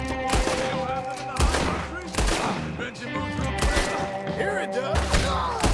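Rapid bursts of gunfire crackle through a Red Dead Redemption 2 shootout, with sharp volleys and loud impacts layered over game music and a brief spoken line.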